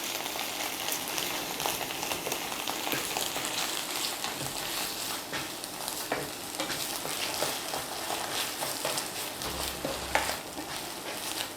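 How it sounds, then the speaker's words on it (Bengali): Mustard paste frying in a pan for shorisha ilish, a steady close sizzle with occasional stirring scrapes throughout. "একটু ভেজে নিব।"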